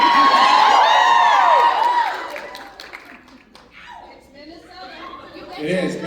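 A rowdy fan-convention crowd at a Minnesota panel cheers and shrieks loudly for about two seconds, then settles into scattered chatter and murmurs with a brief swell near the end.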